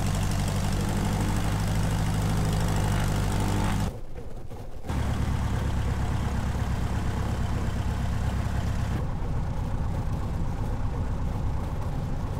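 A Piper light aircraft's engine idles as it taxis toward runway 07 at a flying club, producing a loud, steady droning rumble that cuts out briefly, then returns with a slightly altered tone.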